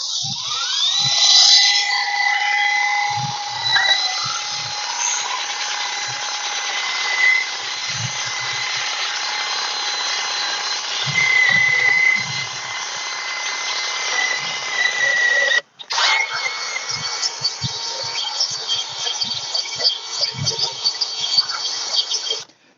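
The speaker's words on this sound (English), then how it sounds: "we're going to use the grass shears and see how well they do here" Cordless Heinpro grass shears trim grass up against the side of a house, a steady high electric buzz running continuously with brief dips and one short cutoff near the end, close and loud with no talking.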